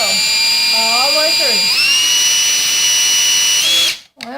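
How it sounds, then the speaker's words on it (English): A power drill runs continuously while boring a hole through a wood board, a steady high whine that shifts pitch as the bit bites, then cuts off abruptly near the end. "Drill you another hole all the way"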